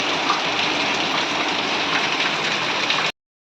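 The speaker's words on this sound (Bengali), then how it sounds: "বাইরে পড়ছে বৃষ্টি আর বৃষ্টি কিন্তু বেশ ভালো বৃষ্টি পড়ছে" Steady, dense rain hisses continuously without pause, then cuts off abruptly near the end into silence.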